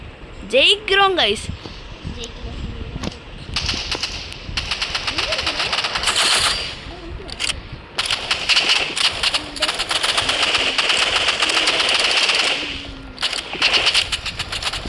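Rapid automatic rifle fire from a video game crackles in dense bursts, with a person talking excitedly over the shooting.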